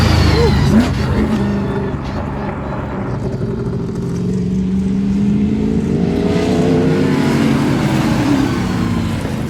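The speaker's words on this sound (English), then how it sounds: "these cool, like, super modified race car with like a Mustang shell" A loud supermodified race car with a Mustang shell roars and revs nearby at Daytona, pitch rising and falling as it accelerates along the track, with faint voices in the background.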